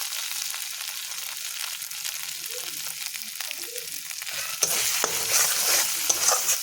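A spice paste with chili powder stir-fries in a pan for an egg curry. A steady hiss runs under repeated spatula scrapes and turns louder and brighter partway through. No one speaks.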